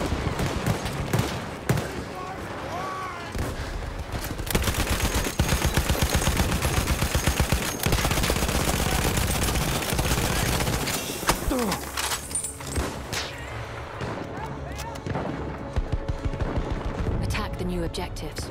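Continuous battlefield gunfire and artillery from the video game Battlefield 1, with rapid rattling bursts, heavy booms and dense layered shots running loud throughout, and voices calling out amid the din.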